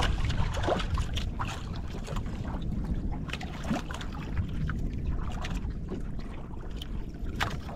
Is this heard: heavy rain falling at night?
no